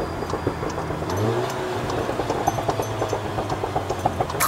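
Seat Leon Cupra 400 hp hatchback driving with its engine droning steadily and the exhaust crackling in rapid, repeated pops, heard close from inside the car.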